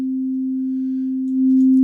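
A clean, pure sine tone from a synthesizer sounds steadily at one low-mid pitch, getting slightly louder near the end before a brief click.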